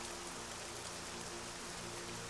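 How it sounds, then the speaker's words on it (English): Rain in the video game Nancy Drew: Legend of the Crystal Skull, a constant even hiss of steady rainfall under a low hum, with no speech. "I feel like this game is very, like, atmospheric with the rain and the thunder and lightning"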